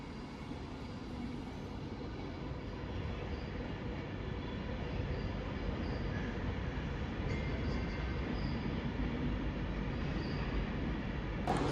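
A train at London Euston departing for Glasgow Central gives a steady, broad rumble of wheels and carriages rolling at a station platform, continuous and moderately loud, with a faint squeal near the end and no talking.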